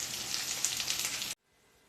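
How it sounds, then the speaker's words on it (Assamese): Potatoes frying in hot oil until golden brown, seasoned with turmeric and salt, a close steady sizzle and crackle that cuts off abruptly after about a second, with no talk. "মই আলুখিনি অকল গোল্ডেন ব্ৰাউন কালাৰ হ'বৰ কাৰণেহে ফ্ৰাই কৰিছোঁ।"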